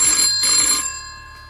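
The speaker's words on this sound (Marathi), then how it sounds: "फोन पुन्हा वाजला" A telephone rings loud and close in a quiet room, a bright electronic ring that fills the first moments and then cuts off, leaving near silence.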